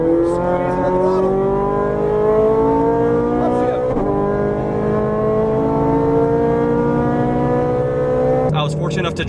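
A supercar pulls hard on a race track, its engine note climbing steadily through the revs in one long, loud pull, then shifting near the end, with a voice talking over it.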